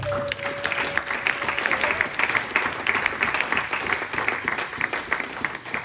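A church congregation at an evangelical sermon breaks into sustained, dense applause: many hands clapping steadily and loudly for several seconds, with a few faint voices mixed in.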